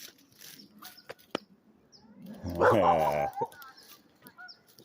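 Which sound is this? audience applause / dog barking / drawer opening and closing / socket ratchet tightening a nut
dog barking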